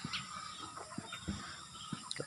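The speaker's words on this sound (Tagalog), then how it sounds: "Manok og pato guys, oh." Chickens and ducks feeding at a backyard poultry pen in the province, with scattered clucks and soft pecking and shuffling sounds, moderately near, with no talk.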